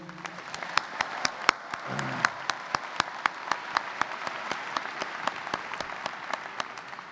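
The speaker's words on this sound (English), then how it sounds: "can we hear one more round of applause for Amazing Blue?" A large audience at a university new student convocation applauds a performing group, a broad steady patter of clapping with distinct louder claps popping out regularly, a voice briefly audible early on.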